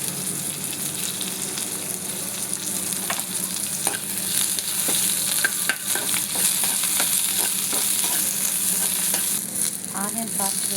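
Onions and curry leaves fry in a hot pan with steady, close sizzling and intermittent stirring scrapes, no voices over it.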